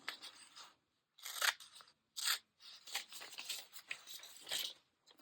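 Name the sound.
scissors cutting out a magazine picture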